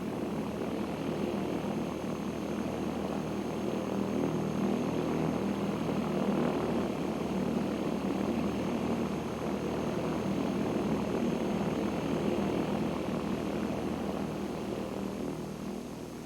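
A small Skipper light airplane taxiing to transient parking at Monterey airport after landing: a steady, continuous propeller engine drone with cabin rumble, close and loud throughout, without talk.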